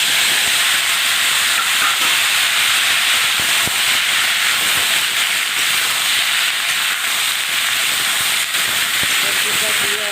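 Raw banana pieces fry in hot oil with a constant, loud, dense sizzle that runs without a break, close up and alone.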